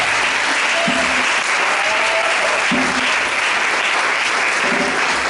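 A church congregation at a Sunday worship service bursts into sustained, loud applause and acclamation for the Lord, with steady clapping and cheering voices filling the hall throughout.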